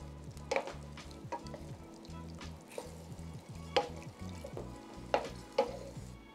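Homemade meat sauce of ground meat and canned tomato simmers in a frying pan, giving a close, steady sizzle and bubbling with a few sharp clicks of utensils against the pan.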